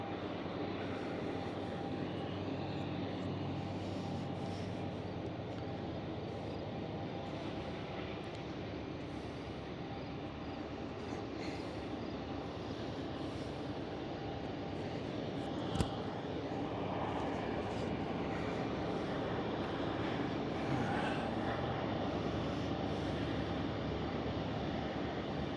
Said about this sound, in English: I'm actually going to count the train cars on this and see if I can finish the entire train.